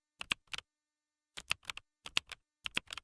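AI-generated footage of a person typing on an odd-looking keyboard: short bursts of crisp, close key clicks in four clusters separated by brief pauses, with no voices.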